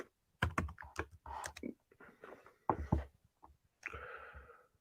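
Quick, uneven bursts of key clicks come from a computer keyboard being typed on nearby, with short pauses between clusters and a brief softer shuffle at the end.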